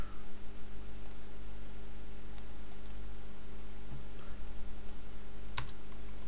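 Commands are tapped out on a computer keyboard in scattered, light clicks over a steady electrical hum, quiet and close, with no one speaking.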